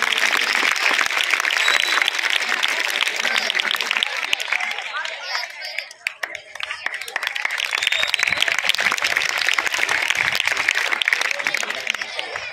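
Loud applause breaks out at a Republic Day prize distribution, dense crackling clapping from a gathered audience that dips briefly midway and then swells again, with some talk mixed in.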